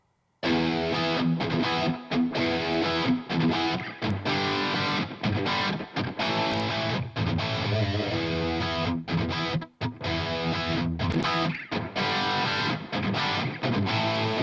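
Heavily distorted rock rhythm guitars chug through a dense, loud riff with drums, playing continuously and sounding upfront.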